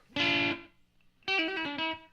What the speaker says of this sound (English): how about a little bit of a slapback echo?